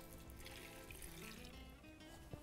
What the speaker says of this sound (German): Wasser aufgießen